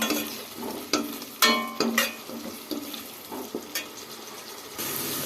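Curry leaves and rice mixture cooking in a pan on the stove, with soft bubbling and scraping stir strokes that come in uneven bursts, close and moderately loud, and no talking.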